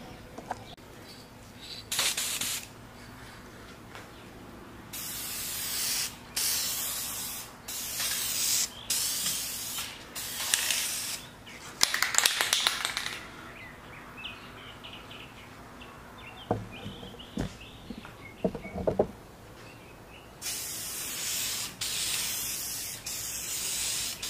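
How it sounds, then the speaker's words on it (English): An aerosol spray can applies tint to a car tail light lens in repeated bursts of loud hissing spray, separated by short pauses, close to the microphone. "I'm spraying the"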